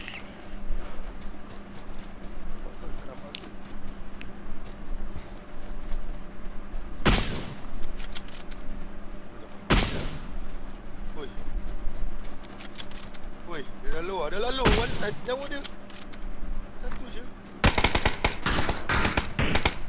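Gunfire in the PUBG battle royale game, a few sharp isolated shots spread apart and then a rapid burst near the end, with players talking throughout over steady game background.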